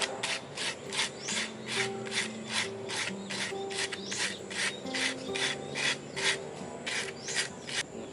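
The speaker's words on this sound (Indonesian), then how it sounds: "Kita amplas." Sandpaper rasps against a handmade bamboo shakuhachi flute in steady, evenly spaced back-and-forth strokes, close and fairly quiet, with a faint tonal hum in the background.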